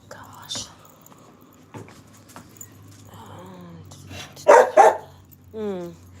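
A dog is taken outside at the start of the day, barking twice sharply and loudly near the end, with softer yips and whines around it and low whispering and background hum throughout.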